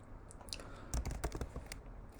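Quiet clatter of typing on a computer keyboard, a quick irregular run of key presses with a denser burst in the middle, close and without talk.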